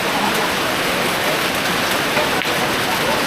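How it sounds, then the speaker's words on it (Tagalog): Heavy rain pours down steadily over fields, a dense, loud hiss that holds unbroken from start to finish. "Grabe ang lakas ng ulan na."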